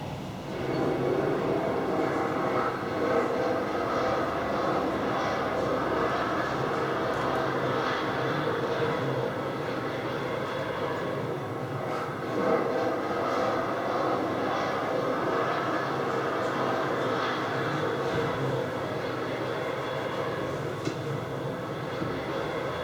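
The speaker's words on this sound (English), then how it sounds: "the relevant British Airways plane is flying over" A British Airways airliner passes overhead in an advert, its jet engine roar steady and loud throughout, with no one speaking.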